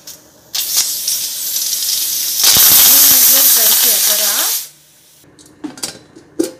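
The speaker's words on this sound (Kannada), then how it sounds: "ಅದಕ್ಕೆ ಲಿಡ್ ಕ್ಲೋಸ್ ಮಾಡಿ ವಿಷಲ್ ಹಾಕಿ 3 ವಿಷಲ್ ಕೂಗಬೇಕು" A pressure cooker with broken wheat bisibelebath inside, lid closed and whistle on, blasts a loud sustained hiss of escaping steam with a wavering, warbling whistle for a few seconds, then cuts off to quiet clatter.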